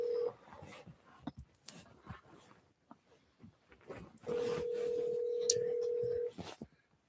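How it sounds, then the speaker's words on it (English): A phone placing a call: short keypad tones at the start, then a long steady ringback-like tone lasting about two seconds, with scattered clicks and handling noise around it. "Let me call this guy real fast."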